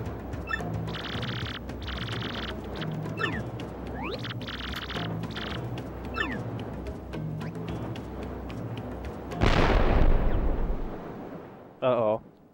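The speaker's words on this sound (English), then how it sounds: "Cannon fire? Who would dare sail around here?" Cannon fire booms once in the Paper Mario: The Thousand-Year Door video game at sea, a loud sudden blast that fades over a few seconds. It comes after game sound effects and is followed by a short chirping cue.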